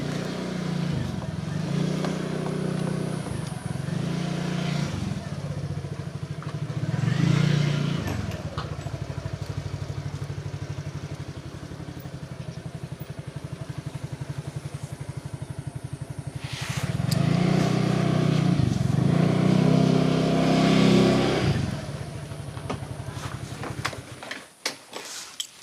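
Motorcycles ride through a damaged village in Brebes, their engines droning steadily and swelling louder as two machines pass close by, with faint voices in the background.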